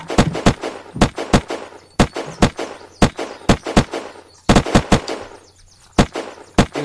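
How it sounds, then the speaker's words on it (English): Gunfire from a firearm aimed at a bear trap in the survival game Unturned: a loud, rapid string of sharp shots in quick irregular bursts, with brief pauses between clusters and no talk. "I gotta shoot out my bear trap so that I can get back up on my stuff."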